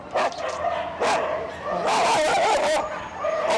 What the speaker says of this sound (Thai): อย่างเช่นเจ้าโมเมนต์นะคะ สุนัขพันธุ์บา งแก้วตัวนี้ค่ะ